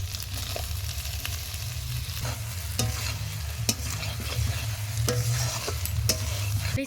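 Doi potol cooking in a pan over a wood fire: a continuous fry and sizzle with repeated sharp clinks and scrapes of a stirring utensil, close and fairly loud, with no talking.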